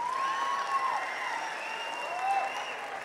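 Audience at the Akhanda Telugu film pre-release event claps steadily, with whistles and cheers rising above the applause throughout.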